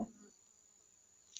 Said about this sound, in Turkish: Lan sinek yürü git.